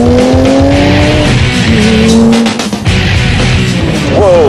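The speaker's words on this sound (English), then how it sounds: "Getting to close Mulholland Highway and drive some wicked machines with my buddy Townsend." A supercar on a cold road on Mulholland Highway, engine cold, roars loudly as it accelerates hard, its engine note climbing through gears with sharp tire squeal from cold tires, then a brief dip before the revs surge again.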